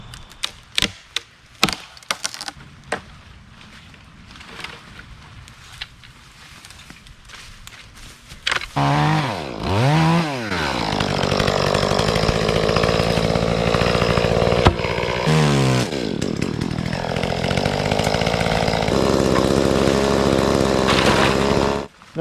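Chainsaw cutting brush during land clearing: scattered sharp snaps and footsteps at first, then the saw roars to life, revving up and down before holding a loud, steady whine while cutting.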